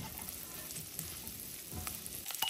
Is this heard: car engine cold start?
no